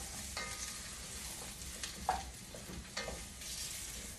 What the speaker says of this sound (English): I'm gonna sprinkle this over the cauliflower, over the oil. That's gonna let it bloom a little bit. Give that a quick little stir.